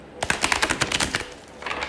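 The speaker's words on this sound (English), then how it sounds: "it has been requested to hear the shuffling live, so I go ahead and do it to oblige." Tarot cards shuffled during a reading, a quick run of crisp, close riffling clicks that fades briefly and then resumes more softly.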